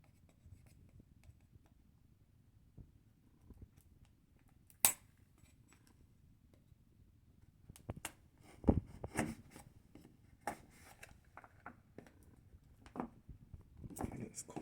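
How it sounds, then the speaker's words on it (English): Box for a Samsung Galaxy Watch Active being cut open, with scattered faint scratching and slicing scrapes and a few sharp clicks over quiet, near and close-miked. "I'm just gonna cut the box open and take a look inside"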